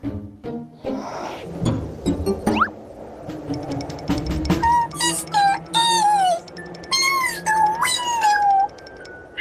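A cat lets out a run of clear, drawn-out meows, several in close succession, after some earlier shuffling and clicking noises. The meows are close and fairly loud, with no speech.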